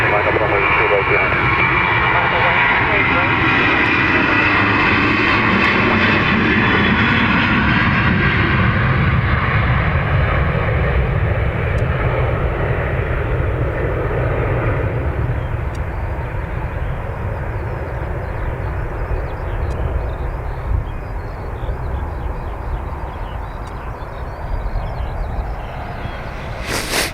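Airbus A330 airliner at Dublin Airport spooling up and taking off, a loud, broad jet-engine roar that swells early and then slowly thins and fades as it moves away.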